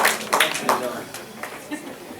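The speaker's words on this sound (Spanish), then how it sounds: "Un fuerte aplauso por favor para el señor" Brief scattered applause rises for a speaker at a public administration conference, a few sharp claps fading quickly against a quiet room with a voice speaking.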